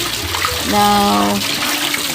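Hand-washed laundry is rinsed in water, with a steady loud splash and flow of running water. A voice speaks briefly over it.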